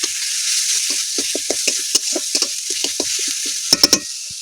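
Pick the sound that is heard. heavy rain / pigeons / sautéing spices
sautéing spices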